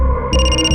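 A mobile phone ringtone plays loud and close, a bright electronic tone that steps up in pitch partway through and holds steady.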